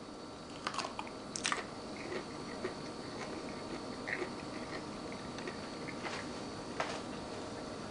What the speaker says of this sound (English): I'm going to go ahead and bite in and taste